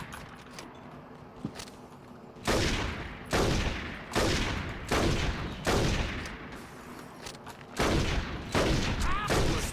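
Gunfire in the video game Saints Row 2, coming in repeated loud bursts of rapid shots with short gaps between them, after a quieter stretch with faint scattered shots.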